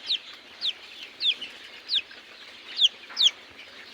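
Chickens clucking in a short rhythmic series of about six sharp, close calls at a steady pace, with quiet background between them and no talk.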